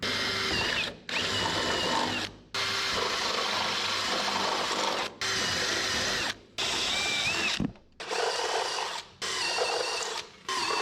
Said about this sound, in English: Gonna drill us a few holes here for spot welds